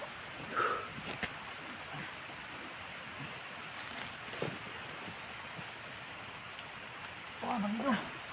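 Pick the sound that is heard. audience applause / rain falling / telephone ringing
rain falling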